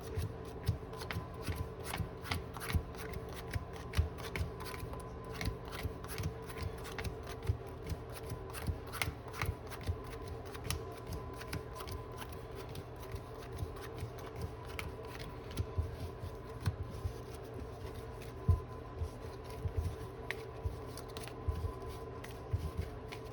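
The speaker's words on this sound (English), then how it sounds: "Do a quick little pile shuffle." A Yu-Gi-Oh! Dark Magician Kashtira deck is pile shuffled, cards laid down one by one in quick crisp taps and slaps on a table, a fast, even, soft clicking rhythm repeating steadily over a faint background hum.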